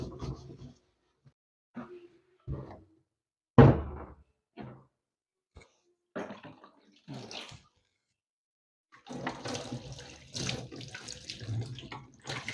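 Water from a home sink runs in short bursts while towels are cleaned and set to soak, with splashes, knocks of handling and intermittent longer flows, close by.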